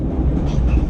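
Interior of a moving sleeper coach on a train from Ho Chi Minh City to Da Nang, a steady low rumble of wheels and carriage noise filling the space, with no clear voices.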